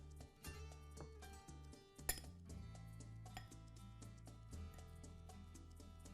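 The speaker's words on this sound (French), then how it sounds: "Ma cuillère. Et je mélange." A spoon clinks and scrapes against a dish while stirring a mix of salt, pepper and olive oil, with quiet repeated metallic taps and one brighter clink, close up and without talk.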